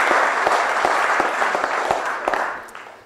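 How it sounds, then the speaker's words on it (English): Warm audience applause at a democracy event, a full, steady spread of clapping with a few sharp individual claps standing out, tapering off at the close. "So please give them a warm applause now."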